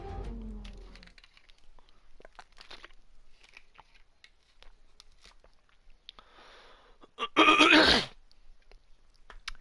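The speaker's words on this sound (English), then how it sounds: "I was trying to clear my throat" A man at his microphone during F1 2020 race commentary gives one loud, harsh throat clear lasting under a second, set against an otherwise quiet stretch with faint scattered clicks and rustles.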